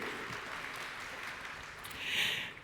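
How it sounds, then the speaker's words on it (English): Applause for panel guests on stage at a sustainability summit, a broad wash of clapping that swells briefly near the end before easing, with no talk over it. "please join me in a big round of applause for our guests here on stage"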